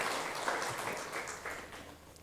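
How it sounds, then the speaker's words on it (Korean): Church congregation clapping during a Sunday morning worship service at a Korean church in Chile, a steady dense round of applause filling the room throughout, fading slightly toward the end, with no talk over it. "다시 한번 박수로 우리 하나님께 영광을 돌리겠습니다."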